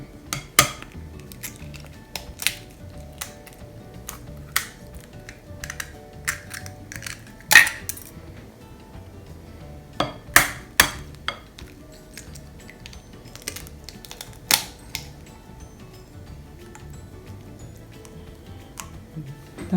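Eggs being mixed into ensaymada dough in a bowl, scattered sharp clinks and taps of a utensil against the bowl at irregular intervals, close but fairly quiet over a soft background.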